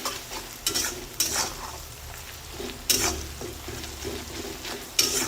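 Chopped onions sprinkled with salt fry in a pan, giving a steady low sizzle broken by sharp scrapes and clinks from a spoon stirring every second or so. No voices.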